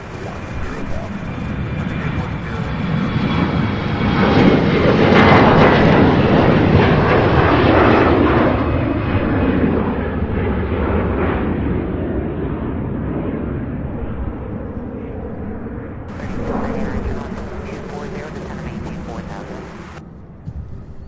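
An Embraer E-175 jet departs Louisville, its engine roar building to a loud peak early on and then slowly fading into the distance, with a voice talking over the sound.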